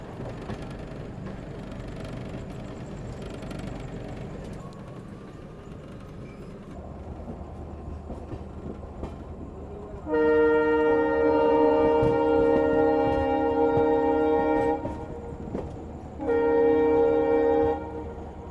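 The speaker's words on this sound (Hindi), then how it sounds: "जन शताब्दी एक्सप्रेस का डिपार्चर।" Jan Shatabdi Express pulling out of a station at night, with a loud sustained multi-tone horn blast that cuts off briefly and sounds again, over steady rumble of the train and station ambience.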